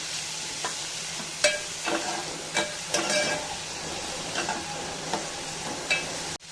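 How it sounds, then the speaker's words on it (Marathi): Chopped onion frying in hot oil in a pan while a spoon stirs it, steady close sizzle with repeated scraping strokes against the pan, no talk. "छानपैकी मिक्स करून घेऊया कांदा।"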